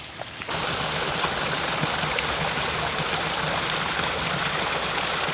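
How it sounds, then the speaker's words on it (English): A creek flows steadily down past an abandoned Erie Railroad stone culvert, a continuous close rushing wash of water that sets in abruptly after a brief quieter start and holds an even level throughout. "As the water carries down, and again, this would follow the creek down"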